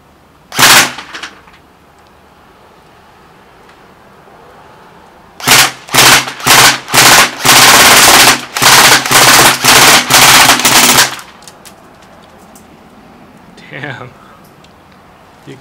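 An upgraded KWA KM4A1 airsoft rifle fires outdoors: one early shot, then a fast run of a dozen-odd loud sharp shots in bursts, with a faint shot near the end and little talk.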